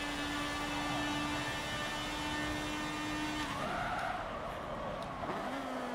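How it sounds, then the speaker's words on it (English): Tyres skid under a hard brake lockup in Forza Motorsport 7, a loud squeal that sweeps and wavers over about two seconds on top of a steady engine drone, with a short second chirp near the end. "Ooh, big lockup"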